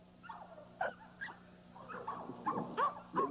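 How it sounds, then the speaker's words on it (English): A small dog of about 28 to 30 pounds in a yard gives a few short, close yips and barks with whimpering tones, growing louder and more frequent toward the end over a steady low hum. "Little dog, about 28, 30 pounds."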